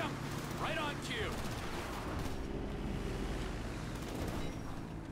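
Gunfire in GTA V rattles on under a steady roar of road or engine noise, a continuous busy wash of shots with a few brief voice-like chirps near the start.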